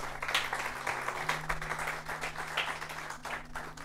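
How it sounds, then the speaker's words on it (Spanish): Church congregation applauding, a fairly quiet, loose patter of hand claps with a low steady hum underneath, somewhat distant in the room. "Denle un aplauso al Señor"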